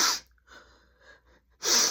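A person imitates nervous sniffing through the nose, two sharp, loud, hissy bursts at the start and end with a quieter, breathy gap between them; voice-made, close, no talk.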